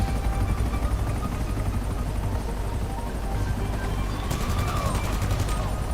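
Helicopters fly overhead in the GTA Online video game during a Cayo Perico heist setup, a steady loud rotor drone filling the whole stretch, with a brief sharp burst of gunfire-like crackle near the end.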